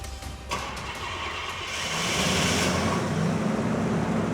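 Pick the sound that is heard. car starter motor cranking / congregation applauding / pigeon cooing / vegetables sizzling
car starter motor cranking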